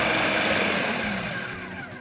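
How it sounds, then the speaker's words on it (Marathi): An electric blender whirs steadily while grinding hummus paste with added olive oil, a loud high motor whine over a churning rumble that eases slightly toward the end, no talk. "आणि या सगळ्याला परत एकदा ग्राइंड करूया"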